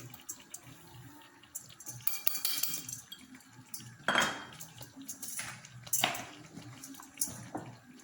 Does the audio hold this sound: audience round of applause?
no